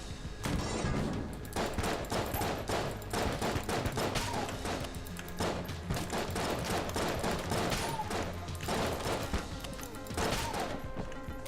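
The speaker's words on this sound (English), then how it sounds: "The shots I'm firing are not the most accurate thing in the world." Relentless gunfire from the roguelike shooter game Enter the Gungeon: rapid, overlapping shots and impacts form a loud, continuous barrage that never lets up.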